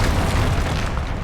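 A Confringo blasting spell explodes in Hogwarts Legacy, a dense, continuous roaring burst filling the short moment at steady loudness.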